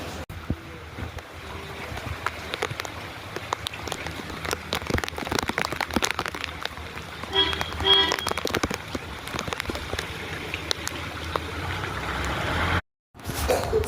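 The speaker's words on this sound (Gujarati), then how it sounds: "જો ફ્રેન્ડ્સ કેવો વરસાદ આવે હું બતાવું તમને" Heavy rain pours down and floods a home courtyard with a dense, constant patter. Sharper drips and splashes land nearby, and there is a brief dropout near the end. No one speaks.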